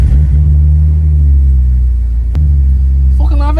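A drift-spec BMW E36 engine rumbles loud and close with a deep, steady low idle, then blips sharply in a single quick rev before settling back to its throaty rumble.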